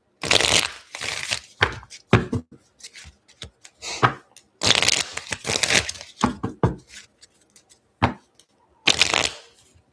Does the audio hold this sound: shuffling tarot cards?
yes